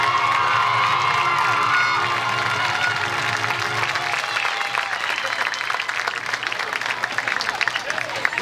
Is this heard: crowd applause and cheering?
yes